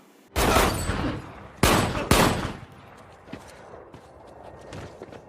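Three loud gunshot blasts in quick succession, the last two close together, followed by lingering echo and faint scattered shuffling, from the 2011 film Fast Five.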